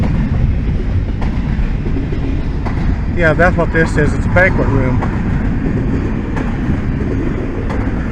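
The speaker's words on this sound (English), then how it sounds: "That's a long train." A long train rolls past in Osage City, Kansas, a continuous rumbling clatter of wagons with a brief burst of tonal horn-like squeal midway, while a person talks over it.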